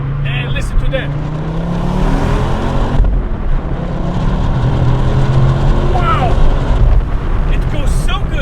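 A 2009 Ford Focus RS pulling hard in second gear, its engine a steady close roar with wind rush as it drives toward a tunnel, while a person talks excitedly over it.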